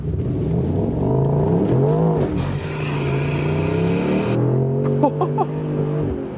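A 2022 Mercedes-AMG SL63 accelerates hard in Sport Plus mode, its engine note climbing through rising revs with gear-change dips, loud and close, ending in crackling pops as the throttle lifts.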